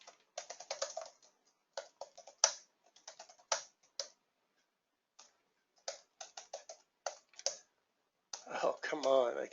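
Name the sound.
typing on a computer keyboard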